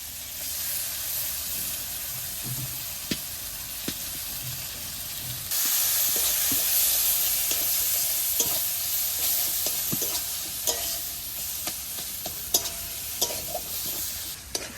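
Spice paste of turmeric, ground coriander, ginger and chili frying in oil for a red bhetki fish dish, giving a steady close sizzle that grows louder midway, broken by frequent sharp scraping stirs of a spatula.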